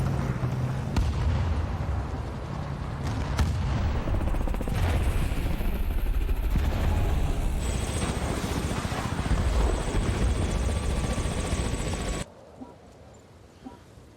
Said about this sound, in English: Let's just say the Hokum's one of those vehicles or those helicopters I wasn't happy on seeing when I was in the service